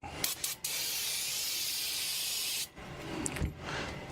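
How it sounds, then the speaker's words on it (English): Brake cleaner spraying from an aerosol can at a custom cutlery bench: a steady, loud hiss of about two seconds, framed by short bursts at the start and a few sputtering sprays near the end. "So I use brake cleaner."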